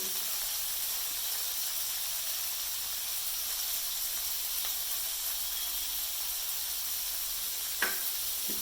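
Three cut tomatoes sauté with salt and a pinch of asafoetida in a pan for tomato chutney, giving a steady, close sizzle and hiss with one faint clink near the end.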